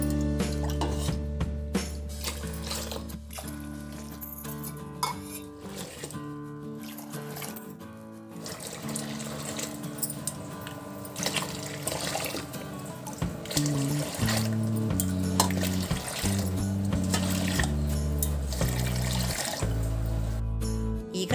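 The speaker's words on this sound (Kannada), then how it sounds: "ಈಗ ನಾನು ನೀರು ಹಾಕ್ತಾ ಇದ್ದೀನಿ ನೋಡ್ರಿ" Water pours steadily into ragi flour in a kitchen vessel, a continuous trickling wash with faint clinks of utensils running throughout.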